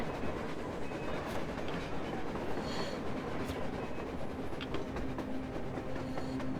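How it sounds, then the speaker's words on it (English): A train rolls past on the surface in the video game Metro Exodus, a steady loud rumble with rattling wheel clatter and faint metallic squeals running throughout, with no talking. "A train! A damn train on the surface!"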